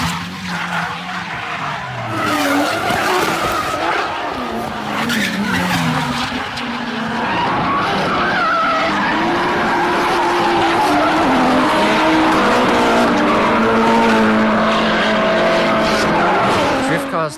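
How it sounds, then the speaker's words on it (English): A Nissan Laurel drifts with a loud, continuous squeal of skidding tires and a racing engine that rise and fall throughout, while people talk underneath. "I want to drift it, and I will put in drifting footage so people can understand."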